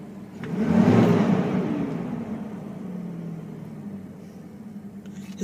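A car engine running on a cold day, a low rumbling hum that swells near the start, then settles into a steady idle-like drone alone without talk.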